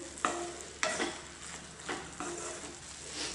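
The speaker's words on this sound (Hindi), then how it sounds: "सभी चीज़ों को अच्छे से मिक्स कर लेंगे।" Spiced green chillies with amchur powder fry in a pan while a spoon stirs them, making several distinct scraping strokes over a soft, continuous sizzle, close and moderately quiet.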